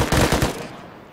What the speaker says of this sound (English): That was a fucking AK.